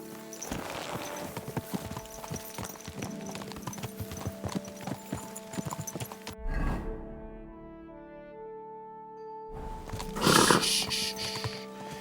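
Hooves clop rapidly and rhythmically as a horse moves along in the video game Kingdom Come: Deliverance II, then fall quiet briefly before another burst of noisy activity, with a steady tone underneath.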